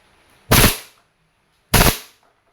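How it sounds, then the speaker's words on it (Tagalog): A WE 2011 Hi-Capa T-Rex airsoft pistol fires two semi-automatic shots about a second apart, each a loud, sharp, close crack against near silence. "Airsoft. Semi-auto. Firing."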